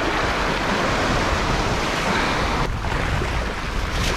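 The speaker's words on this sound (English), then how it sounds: "So let that water rush out a little bit." Seawater rushes out of a scooped bait net beside the sea during an outgoing tide on the New Jersey coast, a steady loud hiss and wash of water with no break, with waves and wind around it.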